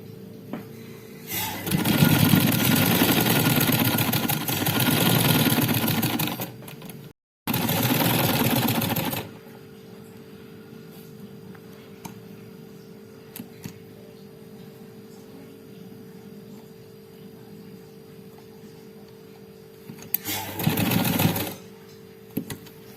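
A sewing machine stitches a patch onto a shirt in two long continuous runs of dense mechanical whirring, stops briefly, then resumes for a short burst near the end, with quiet background hum between.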